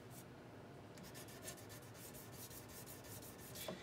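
Fret tops on a Taylor 12-string guitar are polished with a soft, steady rubbing and faint rasp, very quiet and close, with short repeated strokes.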